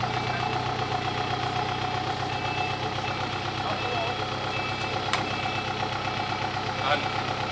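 Engine of an off-road vehicle revving high on a jungle trail in Aceh, a steady loud drone running throughout under shouted instructions from people nearby.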